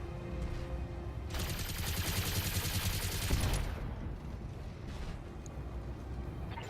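Mech machine guns firing in the video game Battletech, a dense rapid burst of gunfire lasting a couple of seconds over a steady roar of background noise, moderately loud.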